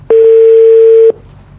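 A single steady telephone tone sounds loud and alone for about a second, then cuts off abruptly as a call is placed, followed by faint line hiss.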